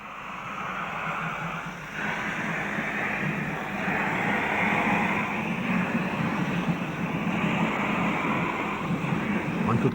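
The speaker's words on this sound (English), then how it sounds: "once more the 16 driving wheels ground slowly into action" A 16-driving-wheel articulated steam locomotive in Indonesia grinds slowly into motion, a heavy rumbling churn with faint rhythmic chuffs that swells gradually louder and stays continuous throughout.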